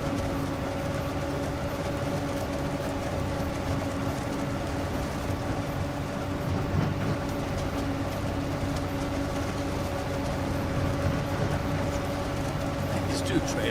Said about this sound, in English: These two trailers, you hear them banging and clanging. They sound like box cars on a railroad train going over the clickety tracks